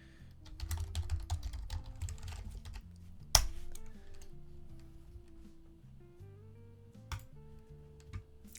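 Fingers tap out a router password on a computer keyboard, first as quick close clicks, then slower scattered keystrokes with a few sharper taps.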